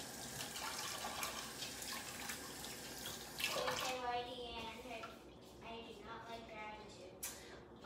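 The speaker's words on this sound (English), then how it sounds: "I'm gonna wash my hands really fast because I touched the impossible meat" Hands being washed under a running kitchen tap, a steady broadband rush of water through the first half, then breaking into splashy, uneven flow; speech is faintly present underneath.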